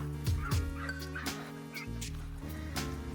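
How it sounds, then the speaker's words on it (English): Turkeys on a backyard farm gobbling in short rough bursts close by, two quick calls near the start followed by more scattered gobbles over a steady low outdoor hum. "these turkeys are awesome"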